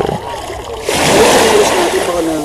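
A person splashing and wading in water, starting with softer sloshing and then a loud, sustained close-up splash, with voices talking over it.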